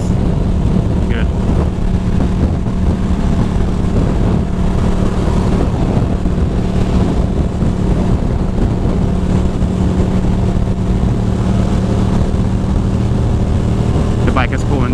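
A motorcycle cruises in sixth gear with a constant loud engine drone and heavy wind rush, and the ride stays steady and unbroken throughout.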